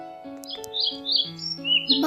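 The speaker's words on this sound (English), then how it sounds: "Bird." A bird chirps in short, bright tweets over a sustained synthesized musical tone, with several quick calls in a row, loud and close.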